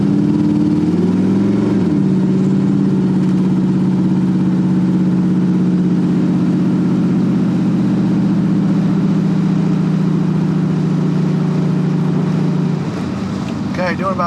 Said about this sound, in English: I'm driving a 1982 Corvette outside in 109 degrees.